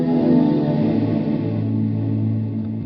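Walrus Audio Slöer reverb pedal set to full mix, washing a sustained guitar signal into a loud, dense, shimmering ambient swell that slowly decays, with no voice.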